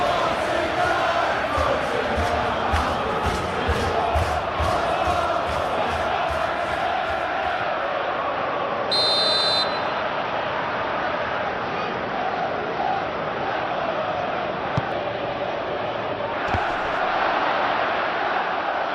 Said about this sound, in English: Maybe the crowd will stay a little quieter next time.